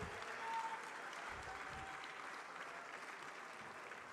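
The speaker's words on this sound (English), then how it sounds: "Please give them a warm round of applause as I introduce them, in no particular order" Steady, continuous applause from a large audience at an annual meetings event welcoming panelists, a dense even wash of clapping with no pauses.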